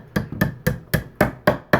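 Seven sharp metallic taps from pliers used as a hammer on a 1/4 scale model kit, struck at a steady, even pace, each a crisp knock with a short ring, close up and fairly loud.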